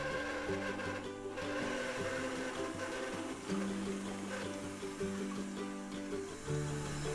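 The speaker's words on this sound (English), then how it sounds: "I have 4 large eggs in the beater, and turn that on" Electric beater whipping four large eggs, a steady loud motorized whir with shifting pitch as the beaters churn, running continuously without talk.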